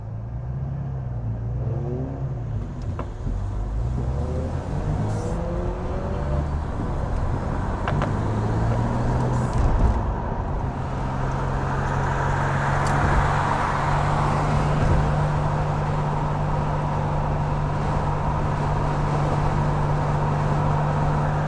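A Ford Capri pulls away and drives off, its steady engine drone and low rumble continuing throughout under road noise, with no talking.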